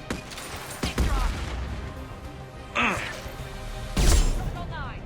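Gunfire bursts from the video game Mass Effect 2, several sharp volleys spaced a second or two apart over a steady background of game noise, with a voice speaking between shots.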